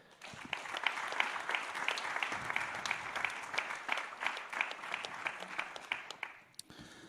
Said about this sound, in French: Merci d'accueillir et d'applaudir André Lescroug-Pietri.